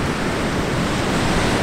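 Rough ocean surf at a busy Florida beach, a steady, loud broadband wash of breaking waves with some wind noise, continuous and close throughout with no talking.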